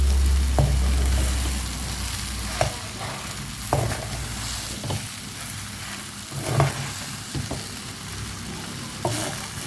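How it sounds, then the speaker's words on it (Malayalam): A mixture fries in a pan, a steady sizzle broken by repeated scrapes and clacks of a spoon stirring at uneven intervals, close and clear with no talking. "ഇനി ഇത് എല്ലാം കൂടെ കുറച്ച് സമയം ഒന്ന് ഇളക്കി കൊടുക്കാം."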